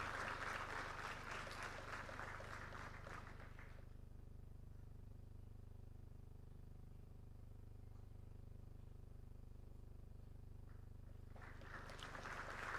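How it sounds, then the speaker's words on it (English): An audience at a scholarship release ceremony gives a round of applause for the guest of honor, faint distant clapping at the start that fades into quiet room hum, then picks up again briefly at the end. "Please give him a warm round of applause as well."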